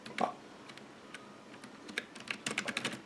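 Typing on a full-size HP K1500 USB desktop keyboard produces light, irregular key clicks, sparse at first and then quickening into a denser run of taps, heard close up.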